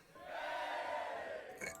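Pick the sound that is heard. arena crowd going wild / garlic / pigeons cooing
arena crowd going wild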